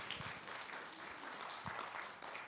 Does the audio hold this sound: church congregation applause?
yes